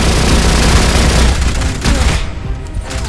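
Rapid automatic gunfire from a weak alien-shooting rifle in the first-person shooter Alien Rage, a loud, dense stream of shots that runs steadily for over two seconds, then thins into scattered bursts.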